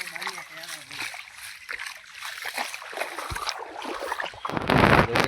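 Water gushing strongly out of the ground in a village after heavy rain, a rushing, splashing flow with wind buffeting the microphone. A voice is heard briefly at the start, and the flow surges louder near the end.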